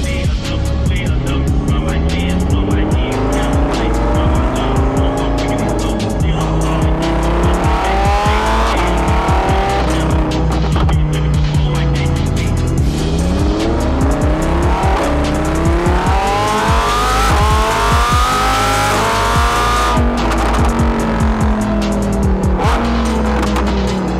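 A Lamborghini Huracan Evo of about 640 horsepower drives hard, its engine loud and close throughout, revving up and down in repeated rising and falling sweeps, with no talking.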